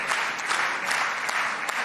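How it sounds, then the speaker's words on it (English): Members of Israel's Knesset clap thickly and continuously for Indian Prime Minister Modi, a loud, even wash of applause filling the chamber throughout. "Again, the applause."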